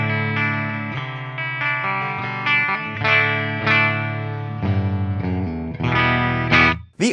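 Chords and single notes ring out from the bridge pickup of a cheap, metal-style Harley Benton electric guitar in E standard tuning, through a clean channel with a chorus-like shimmer. The playing is close and steady, with no voices.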